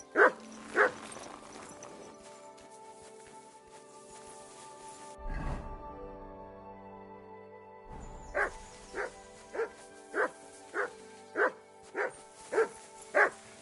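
A dog barks in Kingdom Come: Deliverance II, two sharp barks and then, after a lull of rustling and a low thump, a steady run of about nine evenly spaced loud barks close by.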